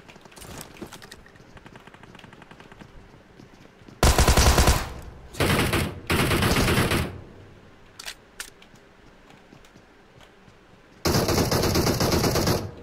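Gunfire in the mobile battle-royale game PUBG Mobile comes in several loud, rapid automatic bursts lasting about a second each, with scattered single shots and quieter crackles in the gaps between them.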